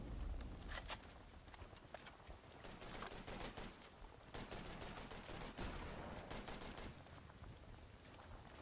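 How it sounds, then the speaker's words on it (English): Mortar fire in Call of Duty 3 cracks out as scattered sharp bursts, some clustered and some isolated, over a restless battlefield background of moderate loudness. "Those are mortars."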